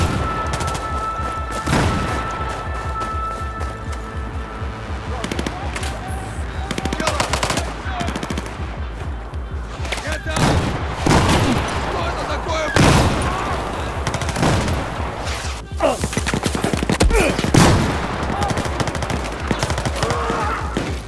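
Video-game combat with heavy gunfire and grenade launchers: rapid machine-gun bursts and rifle shots repeat throughout, punctuated by louder booming blasts, dense and continuous at close range.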